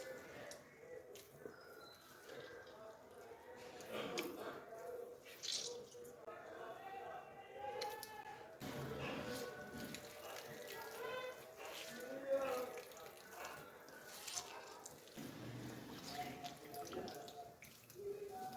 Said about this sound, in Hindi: इस तरह अच्छी तरह दबा दबा के ना इसका पानी अच्छी तरह निकाल देना है।